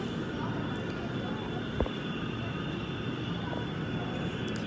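An M-train MTR service runs at the narrow Wan Chai station platform, climbing uphill slowly: a steady broadband rumble and hiss, fairly loud and continuous, with one brief sharp click partway through.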